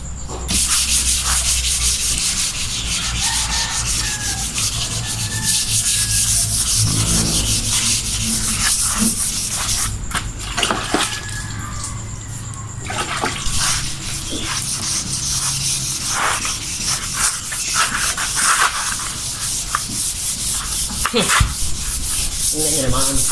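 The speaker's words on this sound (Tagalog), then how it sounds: "lahat ito ililihain ko guys" Sandpaper rubbing back and forth on a car body in a paint shop, a continuous rasping scrape with uneven strokes and occasional brief knocks, close and steady throughout.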